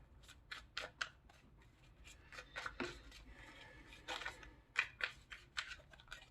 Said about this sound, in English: Anytime my cards shuffle sloppy, I always sense, I get the feeling of anxiety.